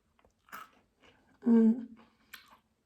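A crunchy air-fried cracker is bitten and chewed up close, giving a few brief, crisp crunches spaced apart, with a short voiced hum partway through.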